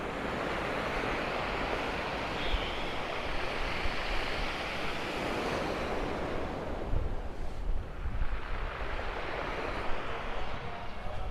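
Ocean surf washes continuously along the seafront in Tenerife, a dense, even roar of waves with wind buffeting the microphone throughout.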